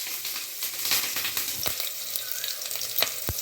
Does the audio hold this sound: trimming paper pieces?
no